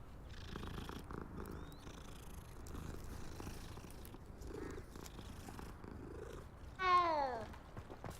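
A cat in the video game Hogwarts Legacy purrs softly and steadily while being petted, a low continuous rumble under quiet game ambience, ending with a brief louder meow-like call near the end.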